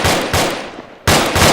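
A fire team opens fire in two loud, close bursts of rapid automatic gunfire separated by a short gap.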